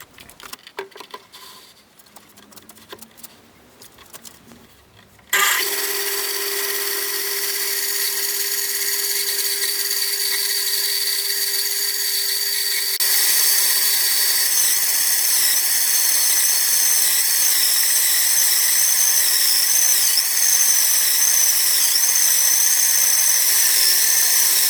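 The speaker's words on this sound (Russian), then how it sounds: "Сухой ясень пилится очень тяжело." A benchtop band saw fitted with a jig for small logs cuts through dry ash, starting after a quiet scrape and then settling into a loud, steady, continuous whine and rasp that grows slightly louder partway through.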